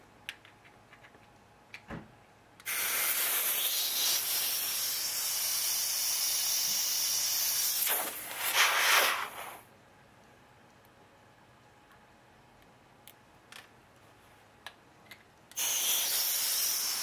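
Compressed air blasting through a Zama carburetor being cleaned from an Echo SRS-2100 tree trimmer, heard as loud close hissing bursts, one long burst, a short sputtering one and another at the end, separated by quiet stretches with small clicks.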